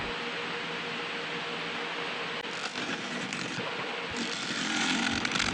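Hard coolabah wood spins on a lathe under a bowl gouge, making a continuous loud rushing, hissing cut with a roar that swells slightly near the end. Nobody speaks.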